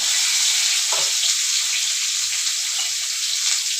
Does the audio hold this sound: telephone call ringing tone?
no